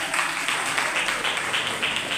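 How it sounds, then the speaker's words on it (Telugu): A church audience claps together, a steady, close patter of hands that keeps going without a break for the whole stretch. "చప్పట్లు పడదాం ఒకసారి."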